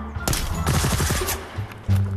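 Rapid gunfire in the Onward virtual reality shooter game, a quick loud burst of a dozen or so shots close by, followed by a brief pause and one more heavy thump.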